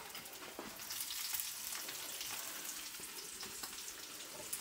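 Onions frying in a pan, a steady close sizzle with soft crackles and scattered stirring clicks, no talk.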